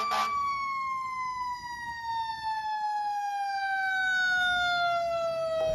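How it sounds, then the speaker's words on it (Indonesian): A toy fire engine sounds a continuous electronic siren, a single bright tone sliding slowly downward in pitch, loud and close with no talking over it. "Ada pemadam kebakaran."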